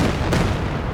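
A creeping artillery barrage in Company of Heroes 2, a heavy rumbling impact with a sharp blast partway through, loud and dense over a continuous low roar.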